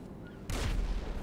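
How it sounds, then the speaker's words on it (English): A sudden deep boom from an explosion in Grand Theft Auto V cuts in after quiet background, a loud low-heavy blast with a brief rumbling tail. "this is a explosion"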